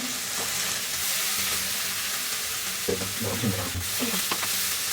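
Fried pieces being stirred with gram flour in a cooking pan for a steamed-egg curry, a steady sizzle with scraping and clinking stirring strokes clustering toward the end, close and fairly loud.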